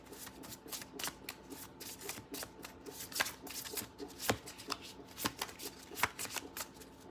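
A deck of tarot cards is shuffled by hand, a run of crisp riffling snaps and soft slaps repeating irregularly, close and quiet with no talk.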